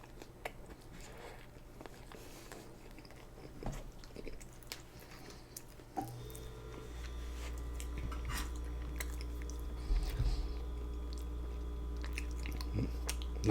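Someone chews a Burger King sandwich right at the mic, with soft wet bites and occasional crunches spread over a quiet stretch. A low steady hum joins partway through.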